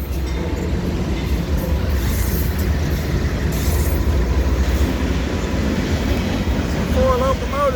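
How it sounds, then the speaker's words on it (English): A manifest freight train led by four locomotives rolls past near Blanchester, Ohio, a loud continuous rumble of wheels and cars close by, with a brief high squeal near the end. "Four locomotives."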